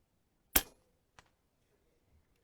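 An American Air Arms EVOL airgun fires one crisp, loud shot, followed about half a second later by a faint distant smack of the pellet hitting the target, then quiet.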